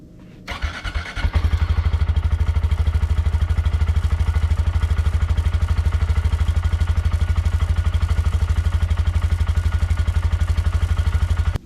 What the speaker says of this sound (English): let's check out a cold start right now